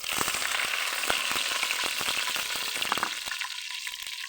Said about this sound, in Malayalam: നമുക്കിതിലേക്ക് കറിവേപ്പില ഇട്ട് കൊടുക്കാം.